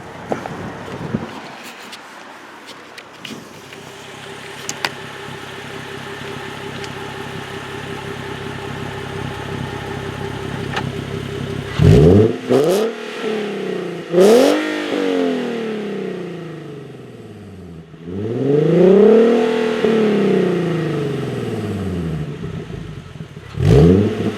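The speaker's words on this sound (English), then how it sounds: "If you want to hear it cold start, you should definitely listen to that." A 2014 Nissan 370Z Touring with Sport Package starts cold, idles with a steady drone, then is revved several times in rising and falling sweeps, heard loud and close with no talking.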